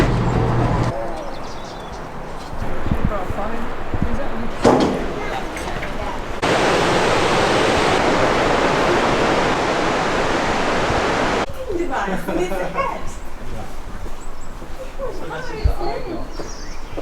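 A river flows around the town of Knaresborough, giving a steady rushing wash of water that swells loud in the middle, while birds, passing traffic and talking come through in other stretches.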